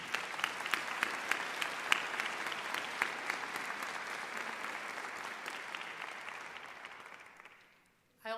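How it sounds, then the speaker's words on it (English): Sustained applause from the audience at a university commencement ceremony for a school of languages, literatures and cultures, dense and steady for about seven seconds before fading out, with a brief voice at the very end. "Let's give them a round of applause."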